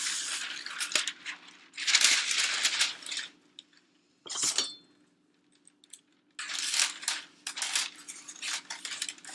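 Parchment paper crinkles and rustles in several loud, close bursts as it is laid onto a baking sheet for meringue cookies, with short quiet gaps and a light metallic tap between.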